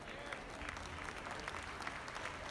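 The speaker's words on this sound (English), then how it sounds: "Give a big round of applause to these kids" Steady crowd applause rises for young exhibitors at a junior market goat show, a dense, even wash of clapping with faint voices mixed in, heard from within the audience.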